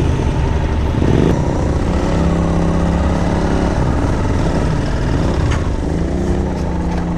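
A Yamaha XT660 motorcycle with a 600-class single-cylinder engine runs continuously during a test ride, a loud, close, steady thumping drone with rising and falling revs and wind rush, no talking.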